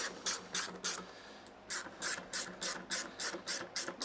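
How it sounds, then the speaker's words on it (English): Ratchet wrench tightening a 10mm bolt on a cylinder lawnmower cartridge, with quiet, close, rhythmic clicking strokes in steady bursts and a brief pause partway through. "So I'm going to start by bringing in that 10mm bolt."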